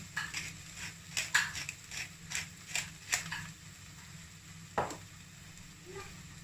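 Spoon stirring onions and spices with salt and black pepper in a pot of green lentil and noodle soup, a run of rhythmic scraping strokes close by, with a sharper scrape near the end.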